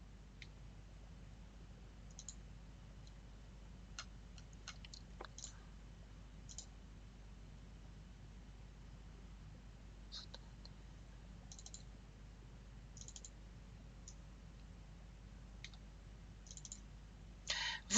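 Computer mouse clicks during a mail-merge task on a computer, sparse faint sharp clicks in small clusters over quiet room hiss, with a quick burst of clicks at the end.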